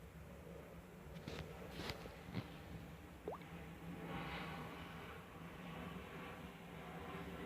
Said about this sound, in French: Désolé pour le bruit de l'avion.